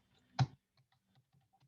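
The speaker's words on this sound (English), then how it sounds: "I still have to type it in by hand." Computer keyboard keys pressed while typing a command: one sharp, close keystroke click, followed by a few faint, scattered taps.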